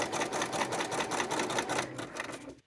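A sewing machine runs a straight 3 mm topstitch with double thread, a fast even mechanical chatter that holds steady and then stops abruptly at the end.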